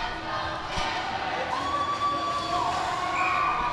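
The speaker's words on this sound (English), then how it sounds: "And the crowd getting into it." A crowd cheers and shouts at a junior C hockey semi-final in New Brunswick, a loud, steady roar with some whistle-like tones rising over it.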